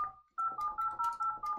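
Touch-tone keypad on a Zultys 47G IP phone dialing a number, a quick run of about seven short, clear DTMF beeps in even succession after a brief pause, close up and alone.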